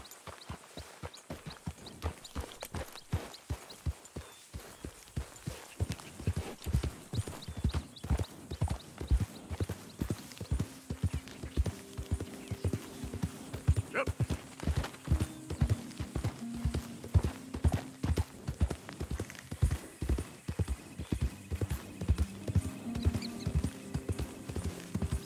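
Steady clip-clop of horse hooves in the video game Red Dead Redemption 2 at a brisk walking rhythm, close and continuous, with a faint tonal whinny-like sound later.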